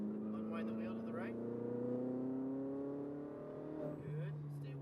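A Ferrari 488 GTB on a race track, its engine revving up and climbing steadily in pitch as the driver gets back on the throttle, with a brief dip near the end before it pulls again. A coach talks over the engine.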